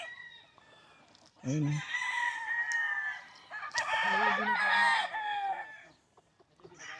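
Chickens and roosters on a large farm in San Rafael, Bulacan, clucking and crowing close by in several overlapping bursts, with someone talking briefly at the start and quieter stretches at the edges.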